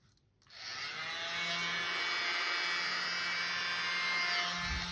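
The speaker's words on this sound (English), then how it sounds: "So my little blower again, I'm just going to start blowing it outwards." A small air blower runs steadily, pushing paint outward across a mini canvas in a paint-and-water Dutch pour; a broad, loud whoosh starts after a short quiet moment and holds evenly to the end, with no voices.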